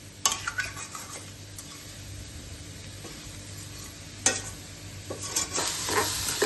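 Chicken gravy bubbles and sizzles in a pan while a spoon stirs it, with a few sharp metallic clinks and scrapes against the pan over the steady frying sound.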